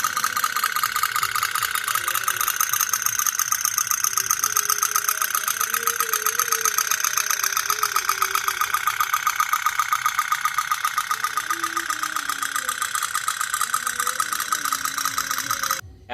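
A toy pop-pop steam boat runs steadily for the whole stretch, giving a continuous, even putter with a faint rattle at close range and no talking over it.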